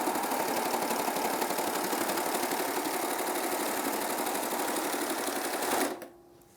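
A Baby Lock Acclaim sewing machine stitches through a double layer of denim with a fast, even, buzzing rattle. It runs for about six seconds, then stops abruptly, leaving quiet.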